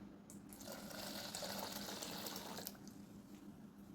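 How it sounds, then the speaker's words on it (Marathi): Water poured into a bowl of smooth raw mango panha mixture, a steady splashing, filling pour close by that runs for several seconds and then eases off, with no talking. "पाणी घालूया."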